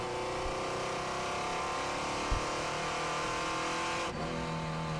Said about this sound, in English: Great sound as you ride on board then with the Aston Martin Le Mans up towards Coppice Corner.